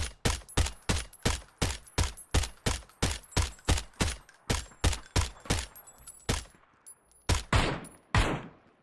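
Rapid, rhythmic bursts of FAMAS rifle fire in the PUBG battle royale game, loud and close, a steady string of shots that breaks into a few separate cracks near the end.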